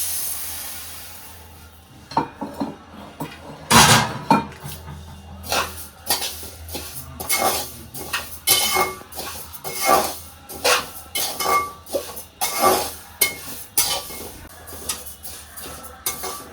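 Cumin seeds being roasted in a pan while making chilli and turmeric powder with Guntur chillies, stirred with a utensil that scrapes and clinks against the metal in frequent close, uneven strokes.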